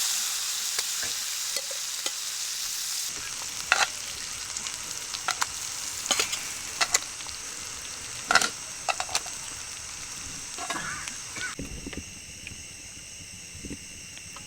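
Squid frying in a pan over a riverside camp fire, a steady soft sizzle with scattered sharp pops and occasional scrapes, fairly close and without voices.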